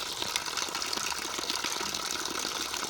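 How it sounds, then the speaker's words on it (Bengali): Running water pours and splashes steadily as freshly scaled and salted rui fish is rinsed, a close, continuous wash with no talking. "এখন জলটা দিয়ে ভালো করে ধুয়ে নেব"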